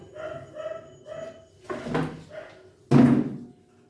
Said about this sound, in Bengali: এত চিল্লায় কুকুরটা, বাপরে বাপ, মাথা যন্ত্রণা করে।